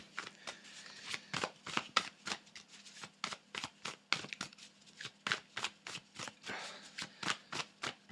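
Tarot cards are riffled and shuffled by hand, up close, in a quick run of crisp flutters and taps that repeat steadily, with no talking.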